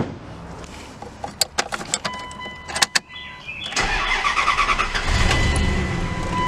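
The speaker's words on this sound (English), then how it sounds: "Heck yeah, this thing starts right up." A Dodge Dakota pickup engine starts after brake line work: keys jingle and clicks sound first, then the starter cranks and the engine catches and settles into a steady, close idle.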